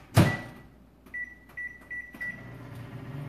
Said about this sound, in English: I probably should stick it in the microwave for a tad